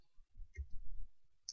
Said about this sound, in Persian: اینو تایپش کنم